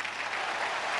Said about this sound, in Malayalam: വർഷയ്ക്ക് എത്ര പേര് കൈയടിക്കും?